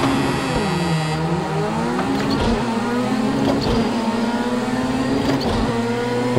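Race car engine in the rallycross video game Project CARS 2, rising and shifting through harmonic pitch sweeps as the car starts and accelerates, steady and loud throughout with no talk.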